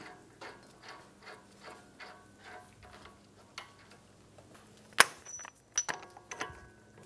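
A ratchet tightens a Honda Accord axle nut, giving a regular series of soft clicking strokes at a steady rhythm, followed by a few sharper metallic knocks and clanks near the end.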